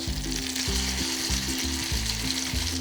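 Shiso tsukune meatballs fry in a lidded pan over medium-low heat, giving a steady, close sizzle with no talk. A low rhythmic rumble with a repeating pattern runs underneath.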